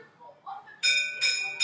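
A school bell rings out in three loud, bright electronic bursts at a school signalling the end of a break, preceded by faint speech-like murmurs.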